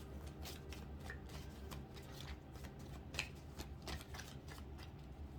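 Tarot cards being shuffled by hand give soft, rapid riffling and tapping in uneven bursts, close but faint over a low background hum, with no talking.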